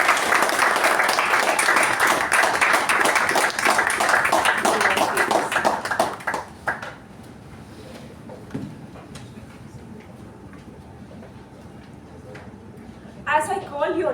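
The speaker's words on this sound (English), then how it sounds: "give a huge round of applause for your outgoing officer" An audience at a club meeting applauds an outgoing officer with dense, sustained clapping for about six seconds. It then fades into a quiet room with faint movement and a brief burst of sound near the end.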